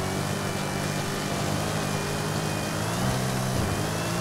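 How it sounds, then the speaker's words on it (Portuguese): A Ford F-150 Shelby truck's engine roars continuously in Forza Horizon 5, a loud, sustained drone that rises slightly in pitch toward the end, with no voices. "Ó o motor do Shelby aqui, ó."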